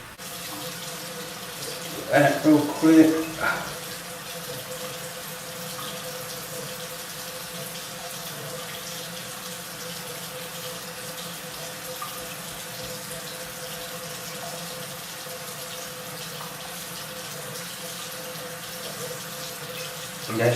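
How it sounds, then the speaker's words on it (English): A tap runs cold water onto a rag in a steady, even stream at moderate volume, with a brief burst of a voice speaking early on. "So now I'm gonna wet the rag again with cold water"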